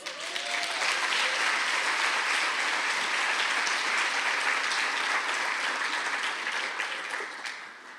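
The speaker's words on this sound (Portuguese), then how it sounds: "Um aplauso a Jesus." A church congregation at a prophetic ministry seminar applauds in a steady, sustained wash of clapping for about eight seconds, tapering off at the close.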